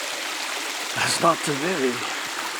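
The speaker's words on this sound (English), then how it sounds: "The sound of water running over the rocks." Water runs over rocks in a woodland stream on a hike through a wildlife area, a steady close rushing wash throughout, with someone speaking briefly over it partway through.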